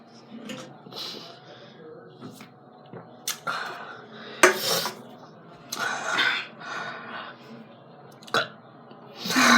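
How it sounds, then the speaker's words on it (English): A loud burp bursts out amid chatter from several people, with other short vocal noises and laughter-like sounds around it. "We need a better burp."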